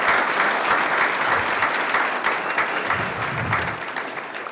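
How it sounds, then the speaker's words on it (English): A round of applause at a college men's volleyball championship banquet sounds as steady, dense clapping from a large indoor crowd, slowly thinning near the end. "I think that right there deserves itself a round of applause."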